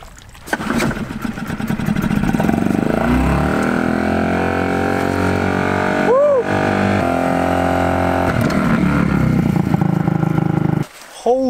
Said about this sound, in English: hopefully you can hear me over the sound of this insanely loud motor